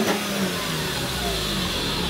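Mercedes G320 with a V6 engine revving hard through a newly fitted exhaust, a loud, sustained roar held close up for a couple of seconds with no talking over it.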